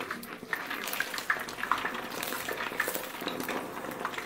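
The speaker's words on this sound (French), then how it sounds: "Nous allons continuer à remuer jusqu'à ce qu'elle soit bien frite, bien dorée" Picanha frying in hot oil is stirred in a pan, giving a steady bright sizzle with scattered scrapes and clinks of the utensil throughout, fairly close and with no talk.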